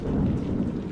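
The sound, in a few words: thunderstorm with heavy rain and wind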